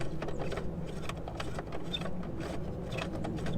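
A socket wrench ratchets on a bolt of a 2003-2008 Honda Pilot during an air intake modification, giving quiet, rapid, close clicking in short bursts with no talking.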